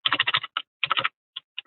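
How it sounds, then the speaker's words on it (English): Quick bursts of typing on a computer keyboard, close and clear, in short clustered runs of keystrokes with pauses between them. "See this? I'm just typing."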